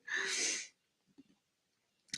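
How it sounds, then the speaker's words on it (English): A single loud, close sneeze bursts out at the start, followed by quiet breathy sounds and a brief sniff or second short burst at the end. "Those sneezes."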